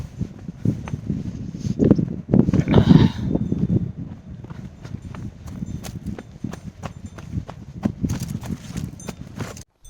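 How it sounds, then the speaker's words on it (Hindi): Chamurthi horses, an indigenous breed of Pin Valley, walk with a steady clip-clop of hooves on hard ground, close and fairly loud, the uneven hoofbeats continuing throughout with a little rustling and no talk. "देखो इस तरीके से ये घोड़े हैं।"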